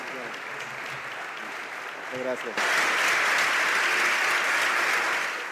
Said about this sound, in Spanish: no sin darles antes un gran aplauso